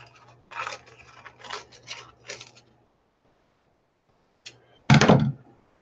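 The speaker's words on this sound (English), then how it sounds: "What I'm just going to do is cut the bottom bit off and fill in the gap." Scissors cut through paper for a windsock craft in several close snips, then a pause and a louder final cut.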